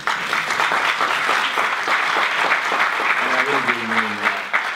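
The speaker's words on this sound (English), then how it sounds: "Would you give her a round of applause?" Audience applause for a higher-education leader being introduced at a lecture, steady dense clapping that fills the whole stretch, with a faint voice briefly rising near the end.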